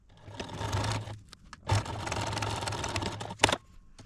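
A sewing machine stitches a seam on a quilted potholder with batting, running in three steady bursts with brief pauses between them, close and fairly loud.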